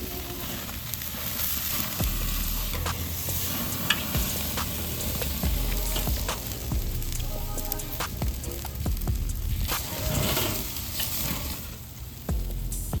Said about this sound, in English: Find your hot zones and keep the steaks moving, because that fire will follow the fat.